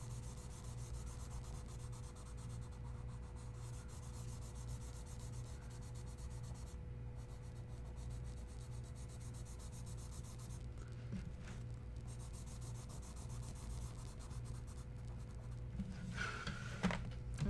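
Charcoal rubs and scratches across paper in a koi fish drawing, a soft continuous scraping with light pressure, close and faint over a steady low hum, with a few louder strokes near the end.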